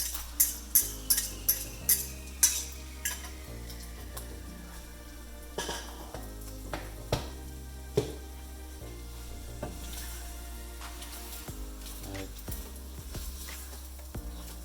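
Whisked eggs and ground beef are stirred in a non-stick pan, a rapid series of spatula taps and scrapes at first, then slower scraping strokes over a soft steady sizzle, close and without talking.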